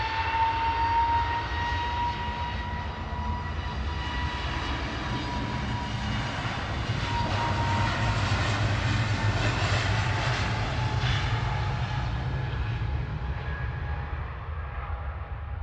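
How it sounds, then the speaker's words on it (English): An EasyJet Airbus A320neo jet departs Manchester Airport for Alicante, its engines a steady, loud roar with a whining tone, rising and then holding at a distance, with no talk. "Heading off to Alicante, it's the Zorro EasyJet Flight 2015 A320 Neo."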